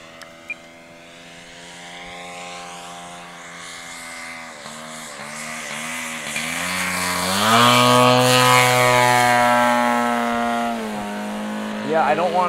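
A CMP Extra 300S radio-controlled model airplane approaches to land, its engine droning in a steady, rising-and-falling pitch that swells louder and nearer midway, with a brief burst of throttle at the end.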